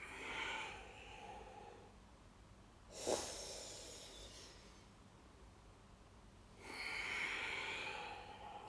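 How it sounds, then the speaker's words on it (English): A single slow exhale during a yoga cat-cow stretch, heard as a soft breathy rush that rises to a brief sharper burst and fades, with a second long breath near the end and quiet room noise between. "Breathing out."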